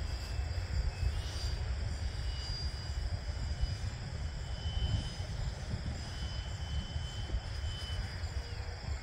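A Freewing MiG-15 RC jet with a 64mm electric ducted fan whooshes overhead in a steady, distant turbine-like roar that rises and falls slightly as it flies slow aerobatic passes.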